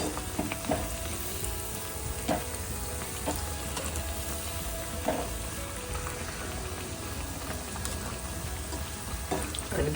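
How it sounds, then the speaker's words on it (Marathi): Batata vada, potato fritters, deep frying in hot oil in a kadhai two at a time, a continuous crackling sizzle broken by occasional sharp pops and clinks. "सो अशी छान 2-2 वडे आता तळून घ्यायला लागतील."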